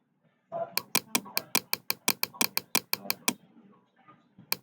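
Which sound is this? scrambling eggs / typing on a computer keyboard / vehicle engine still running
typing on a computer keyboard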